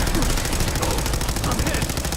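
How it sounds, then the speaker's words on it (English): Rapid gunfire rattles through a firefight in the video game Fallout 4, dense and continuous with loud bursts over about two seconds. "Keep your head down! Taking fire!"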